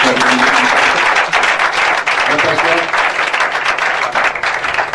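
A church congregation bursts into sustained loud applause and clapping that fills the room, with voices cheering and shouting underneath throughout.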